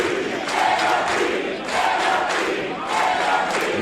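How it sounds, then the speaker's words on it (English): A crowd at an independent tag team wrestling event in St. Louis on its feet, roaring and cheering loudly in swelling waves, a dense wall of many voices close to the listener. "The crowd is on their feet."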